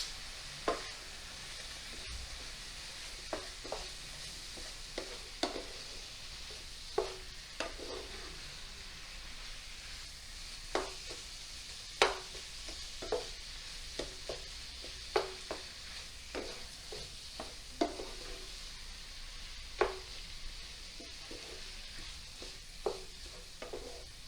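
Beef taco filling seasoned with marjoram sizzles steadily in a hot pan, with repeated short scrapes and clacks of a utensil stirring at an irregular pace, close but soft, with no one speaking.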